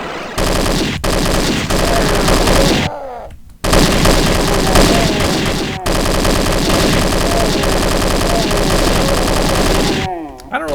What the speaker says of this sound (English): here we have the Heckler & Koch MP5, which basically replaces the chain gun